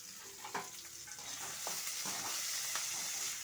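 Onions and green chillies fry in oil in a pan for a Tamil-style fish curry, giving a steady, moderately loud sizzle with a few scraping stirs and clinks, no voices.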